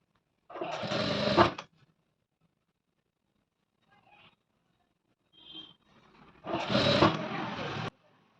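Sewing machine stitching piping onto a garment, two loud close bursts of steady motor whir about a second each, separated by a quiet gap with faint handling noises.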